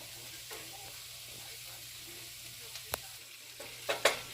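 Minced fresh garlic sautés quietly in a pan as a soft, steady sizzle, with a few sharp clicks of a utensil against the pan near the end.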